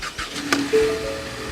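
A car engine cranks and catches during a driving lesson, a short starter whir rising into a low steady idle, close and moderately loud.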